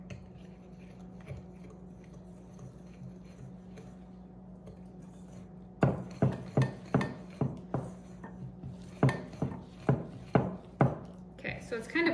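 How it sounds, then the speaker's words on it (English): Blackberry muffin batter with egg whisked in a bowl, starting after a quiet stretch as a steady series of close, rhythmic clinking strokes of the whisk against the bowl, with faint background hum. "Okay, whisk that together."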